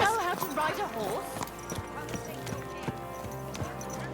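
Rhythmic horse hooves clip-clopping at a steady gait while riding in the video game Kingdom Come: Deliverance II, with music and voices playing over them throughout.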